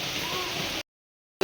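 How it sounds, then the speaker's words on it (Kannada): Evening rain falls in a steady, close hiss for under a second before the sound cuts off abruptly. "ಇವತ್ತೇನೋ ಅಪರೂಪಕ್ಕೆ ಸಂಜೆ ಟೈಮ್ ಮಳೆ ಬಂದಿದೆ."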